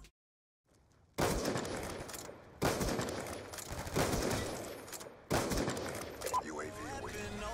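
Gunfire in Call of Duty: Black Ops 2: after a near-silent start, loud bursts of rapid automatic fire come in several sharp clusters, dense and close, with game noise between bursts.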